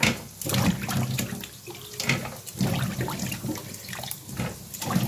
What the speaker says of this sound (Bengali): তো এখন আমি সবজিগুলো ভালো করে ধুয়ে দিচ্ছি